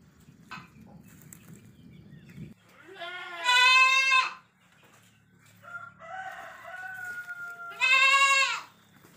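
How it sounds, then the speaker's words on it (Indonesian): Two loud, drawn-out goat bleats ring out a few seconds apart, close by on a rural village farm, with quieter animal calls including chickens and a faint rustle in between. "kambing, suara ayam, itu karena kita ada di pedesaan lur"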